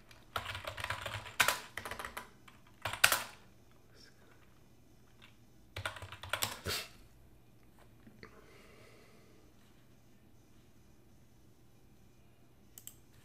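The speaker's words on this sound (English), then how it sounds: "I'll type in Wisconsin." Keys clatter on a computer keyboard in two short bursts of rapid, close taps separated by a quiet pause, with faint room tone afterward.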